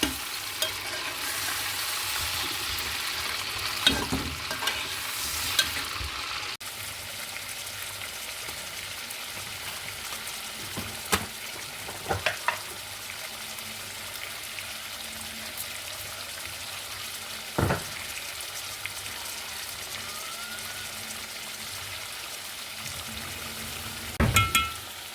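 Cauliflower dal, Durban style, frying and being stirred in a pan: a continuous soft sizzle with occasional sharp clicks of the utensil against the pan, close and unhurried, no talking.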